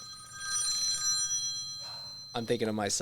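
A telephone bell rings in repeated electronic trills at moderate loudness, and a person starts talking near the end.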